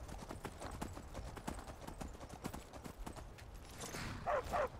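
Horse hooves clip-clop steadily on a road in the Skyrim video game, a rhythmic trot of evenly spaced hoofbeats at moderate distance, with a brief brighter burst of activity near the end.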